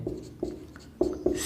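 Chalk or marker strokes on a board, a few short scratchy bursts in an uneven rhythm, close and clear with no talk.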